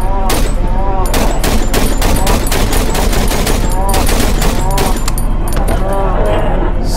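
Assault rifle gunfire in the horror video game Cry of Fear, loud rapid bursts of shots repeating through the stretch, with no talking.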